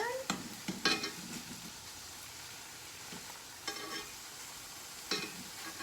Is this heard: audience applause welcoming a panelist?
no